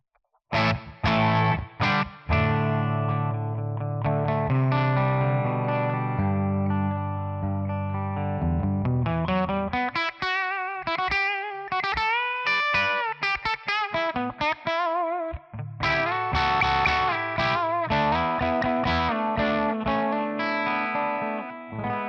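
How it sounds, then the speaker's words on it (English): A Les Paul electric guitar through a Tonex amp model with reverb added rings out in sustained distorted chords and sliding melodic lines, loud, close and continuous, without talk. "Let's add some reverb."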